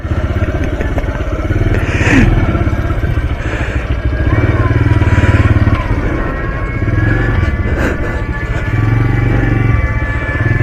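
A motorcycle ridden along a town road during a festival outing, a loud close steady engine drone with rhythmic throttle swells and road noise, with brief voices underneath.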